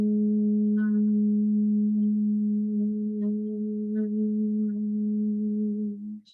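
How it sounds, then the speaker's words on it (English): A steady, low voiced hum held for about six seconds, buzzing like a bee in the Brahmari breathing practice, fading out at the end with a brief breathy release. "Next time, we're going to add a humming sound if you like."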